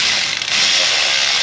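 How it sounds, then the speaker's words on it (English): An electric ratchet whirs continuously while tightening a fastener during an intake reseal on a 2002 Pontiac Firebird GM 3800 3.8L V6, a close, loud mechanical buzz with no talking. "pull the ratchet out, electric ratchet"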